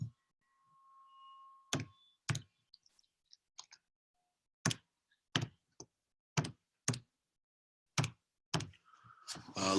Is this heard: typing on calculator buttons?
yes